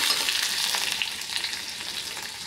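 Onion and tomato sautéing in a pan with ginger-garlic paste, curry leaves and asafoetida for a masala dosa filling: a continuous close sizzle with soft stirring scrapes throughout.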